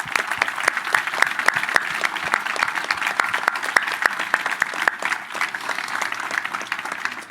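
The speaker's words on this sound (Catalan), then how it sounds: "Un aplaudiment" Sustained audience applause at an inauguration event for a new venue in a former Providència building, dense and steady clapping with sharp individual claps throughout, no talking.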